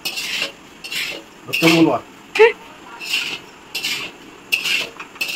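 Rice for fried rice mixed in a pot at a home birthday gathering, with repeated close metallic spoon scrapes and clinks in bursts while people talk nearby.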